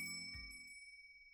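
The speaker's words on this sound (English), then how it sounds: "The telltale ring of the bell above the shop door makes me pause." A bell mounted above a shop door rings once: a bright, clear ding whose tones hang and slowly fade into quiet, with no voices.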